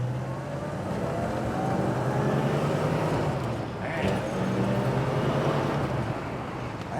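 A 1962 Chevrolet Corvette convertible pulling away in first gear, a steady low engine drone and road noise, fairly subdued and continuous with a brief dip midway.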